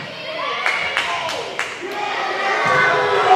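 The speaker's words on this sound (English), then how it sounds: "And that got the crowd fired up" A gym crowd at a Triton versus Georgetown college volleyball match on senior night cheers and shouts, with sharp claps and thuds over a steady roar and voices talking throughout.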